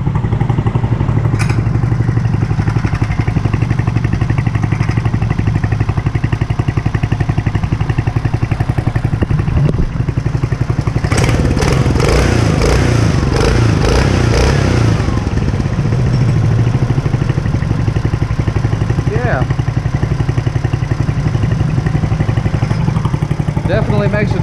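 A Mokai EX21/17 kart engine fitted with a prototype water-cooled muffler runs loud and close in a steady, throbbing drone. A brief rise in revs comes midway, then it settles back.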